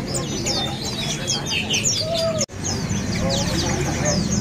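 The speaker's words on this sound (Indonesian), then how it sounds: "Di depan kita ini ada burung Pleci Kacial" Pleci white-eye birds, including Kacial or Lombok types, twitter at a bird shop kiosk, with rapid high chirps layered over steady background noise, a lower call near the middle and a short cut in sound.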